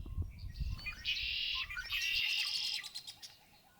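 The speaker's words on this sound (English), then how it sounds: "The next sighting was the always talkative red-winged blackbird." A red-winged blackbird calls at a marsh on Hosmer Lake, with sustained buzzy trills and chirps, fairly close, over low rumbling noise at the start.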